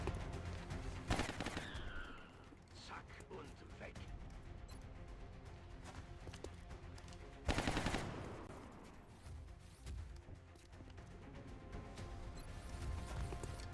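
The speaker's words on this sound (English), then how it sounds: "Take these shotgun shots." Shotgun blasts in the turn-based game XCOM Long War, two sharp broadband bursts standing out, separated by several seconds, over a busy background of game sound.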